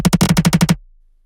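A quick, dry drum fill with no effects: about nine rapid, punchy hits in under a second, then a sudden stop into silence.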